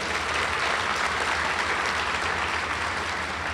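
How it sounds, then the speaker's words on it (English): Steady, dense applause from a large college commencement crowd, filling the whole moment at an even loudness with no talking over it. "We'll give her a round of applause."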